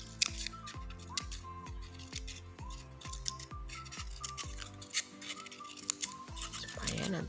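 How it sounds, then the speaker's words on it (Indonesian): Scissors cut fringe into a plastic bottle for homemade maracas: repeated close snips and crinkles of plastic at an irregular pace, carried over light background music. "Bisa coba gunting."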